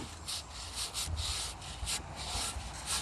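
Something is rubbed back and forth over the rough cooking surface of a pre-seasoned cast iron pan, making a close, gritty scraping in repeated strokes like sanding, with no voices.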